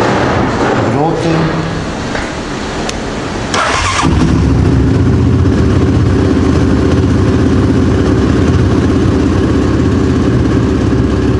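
A Yamaha Raptor 700 quad bike is cranked and fires up at close range, the starter whirring briefly before the engine catches and settles into a loud, steady, rumbling idle that runs to the end.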